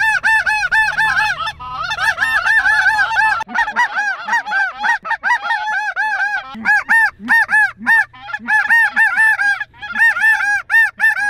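A flock of snow geese honks loudly and continuously on a hunt, with dense overlapping calls close by that break only briefly.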